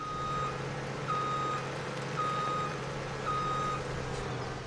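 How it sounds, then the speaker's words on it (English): Farm vehicle in a farming video game backing up at night, its reverse alarm giving evenly spaced single beeps over a constant low engine hum, with no talking. "that's one of them that beeps again"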